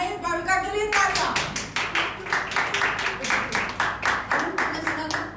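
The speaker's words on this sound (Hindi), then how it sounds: "भाविका के लिए तालियां।" A small group at a Sunday church service claps in a brisk, uneven burst of hand claps lasting a few seconds, close and clear, following a short spoken line before it.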